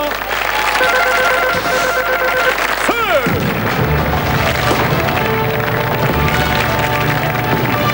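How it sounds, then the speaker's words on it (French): A telephone rings on the set of a French TV call-in game show broadcast in December 1996, a bright ringing tone over loud studio music and crowd noise. "Et le téléphone sonne à la mi-temps."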